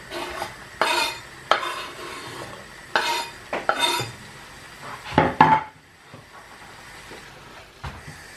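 Carrots and other ingredients for Lithuanian plov cook in a pan amid a quiet sizzle, punctuated by clanking stirs and scrapes of a utensil against the metal, with pauses between bursts.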